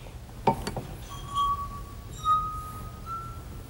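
Water-filled drinking glasses played as musical notes, giving a few clear sustained ringing tones in sequence after an initial light clink, each note fading slowly in a quiet room.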